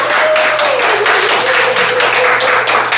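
Applause from a crowd at a Democratic Party Gijang-gun regional committee members' speech contest for the party leader election: a steady, dense wash of clapping that carries evenly through the whole stretch, with a faint steady tone underneath.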